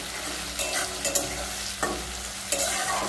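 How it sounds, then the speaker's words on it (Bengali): Chopped tomatoes frying in a pan with torn bay leaf, a dense steady sizzle close by, broken by a few scraping stirs of a spatula, no talking. "টমেটোগুলোকে আমি ভেজে নেব।"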